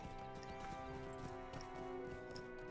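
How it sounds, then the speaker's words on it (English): Horse hooves clip-clopping at a steady gallop in the Lord of the Rings Online game, a continuous rhythmic patter set under a dense layer of game music. "we'll jump on the horse, and we'll head back to the Forsaken Inn"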